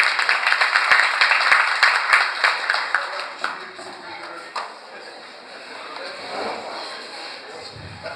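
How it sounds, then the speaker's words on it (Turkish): Clapping from a congregation at a Ramadan holiday farewell gathering welcomes a speaker. Dense and fairly loud at first, it thins out after a few seconds into a quieter room with scattered claps. "alkışlarınızla Süleyman Yıldırım'ı davet ediyoruz"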